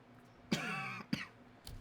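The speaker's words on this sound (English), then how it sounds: "Sorry about the cough." Two close coughs about half a second apart, the first longer and rougher, in an otherwise quiet room.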